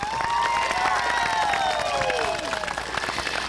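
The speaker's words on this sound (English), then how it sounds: "Let's one more time give a great round of applause for the Rotarians who are here." A crowd at an elementary school anniversary ceremony claps and cheers continuously. Some voices call out over the applause.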